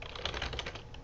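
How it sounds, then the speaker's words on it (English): Rapid, irregular keystrokes hammered on a computer keyboard, a dense run of close, quiet clicks with no talking. "So I'm just going to pound the keyboard, whatever."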